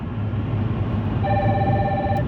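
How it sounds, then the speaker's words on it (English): A telephone rings with a steady electronic tone over a low background hum, starting partway through and sounding fairly close, with no talking. "let me let my phone finish ringing"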